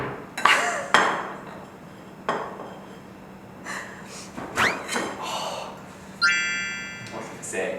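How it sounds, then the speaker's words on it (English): Butter being scraped off the side of a plate while making egg tarts: short clinks and scrapes of utensil against dishware, with people talking nearby and a brief ringing clatter near the end. "Just scrape it off the side of the plate"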